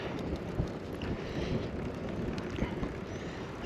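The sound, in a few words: wind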